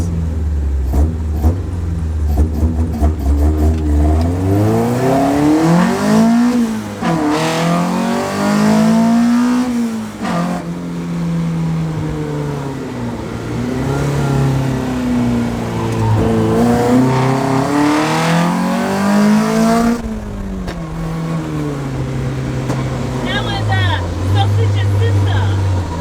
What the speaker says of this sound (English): Like the exhaust isn't loud, it's just the throttles that are really loud.